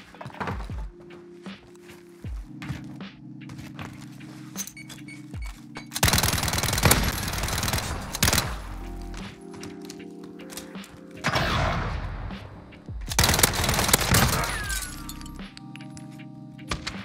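An Uzi submachine gun in a Search and Destroy match rattles out several loud, close bursts of rapid fire between quieter stretches of footsteps, clinks and game sounds.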